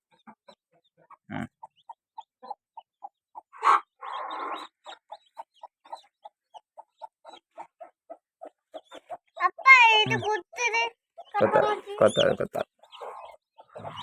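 Steady high peeping of incubator-hatched chicks repeats throughout, joined later by louder clucking hens and a voice talking over them, all close by.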